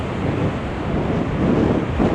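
Strong wind roars steadily across Blackpool promenade, buffeting the microphone in a loud, continuous rush with no voices.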